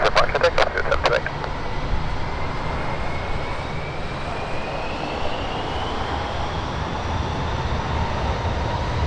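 A British Airways Boeing 777, registration G-ZZZB, roars steadily as it takes off on its final flight. Its engines sound distant but loud and sustained, with a short burst of radio chatter at the start.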